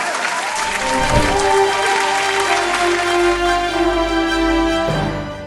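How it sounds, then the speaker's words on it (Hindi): Loud applause on a gospel singing competition show after a contestant's song, broad sustained clapping blended with lingering musical tones and a low hum that swell and hold for several seconds. "जोरदार तालियां हो जाएं।"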